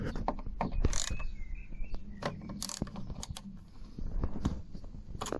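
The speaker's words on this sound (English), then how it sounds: "So loosen this bolt as well." A ratchet loosening a bolt on a Smart car window regulator, giving quick soft clicking strokes with small metallic taps and clinks, close and fairly quiet, no speech.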